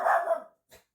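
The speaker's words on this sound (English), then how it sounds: "dog bark" A neighbor's dog gives one short, distant bark after a fading murmur of other noise, then silence.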